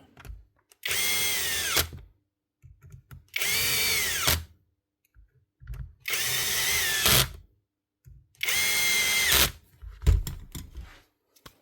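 A Milwaukee cordless drill, just repaired after running noisily, whirs in four steady bursts of about a second each, separated by short pauses and faint handling clicks, running evenly and close by.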